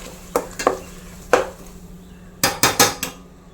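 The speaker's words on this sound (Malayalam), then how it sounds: "മുളക് പൊടി നല്ലപോലെ ഒന്ന് മിക്സ് ചെയ്ത് കൊടുക്കാം." Metal spoon scraping and clinking in a pan while chili powder is stirred into hot oil for a Kerala-style mango perattu, a few sharp knocks early, then a quick cluster of four clanks near the end.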